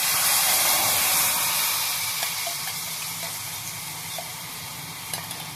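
Hot oil with fenugreek seeds, dried red chilies and turmeric sizzles loudly at first, the crackling hiss easing to a quieter steady fry with a few faint pops.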